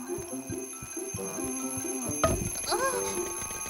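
A cartoon alarm clock belonging to a cat character rings in short repeated bursts, set against busy animated-show music and effects, with a sudden louder clatter partway through.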